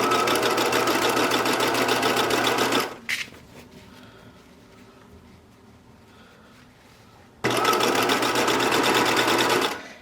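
Sewing machine edge stitching binding onto a Grainger coat, a loud, even mechanical whir in two bursts of about three seconds each, separated by a quiet pause with light handling noise.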